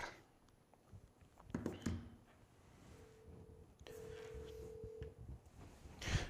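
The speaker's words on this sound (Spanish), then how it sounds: "Vamos a ver si el diputado Flores contesta el teléfono y lo vamos a llamar" Telephone being dialed to call a politician on a live Spanish-language news program: scattered handset clicks, then a few steady electronic tones from the line, quiet and close.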